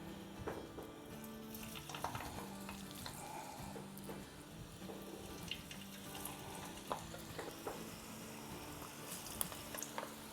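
Dal and potato pakoras fry in hot oil, a faint continuous sizzle broken by irregular soft clinks and splashes from ladling and turning, with no talking.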